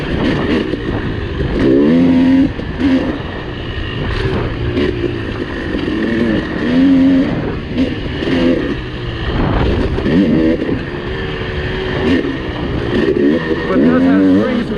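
Engine of a 2020 Husqvarna 300 TE two-stroke dirt bike with a 52-tooth rear sprocket, ridden off-road, revving up and down in repeated bursts at close range with loud surges, while a rider talks over it.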